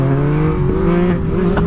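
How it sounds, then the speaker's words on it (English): A car drives past close by with a loud engine roar that shifts in pitch as it goes, lasting under two seconds with no talk. "And of course now there's a car."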